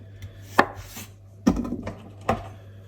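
Knife chopping potatoes for traditional mashed potatoes: three separate sharp cuts against a board, spaced about a second apart, close and fairly clear over a low steady hum.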